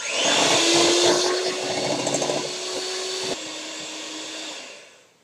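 A blender whirs loudly with a steady hum, shifts pitch partway through, then winds down and fades out.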